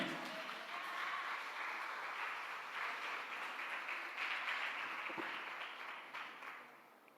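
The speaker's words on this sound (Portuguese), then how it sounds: "Aplauda o Senhor, querido." Congregation in a church applauding, a steady, fairly distant wash of clapping that carries on evenly before tapering off.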